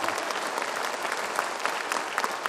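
Audience clapping at a motivational speech event in Assam, a dense, lively patter with sharper individual claps standing out, steady and fairly loud with no voices over it.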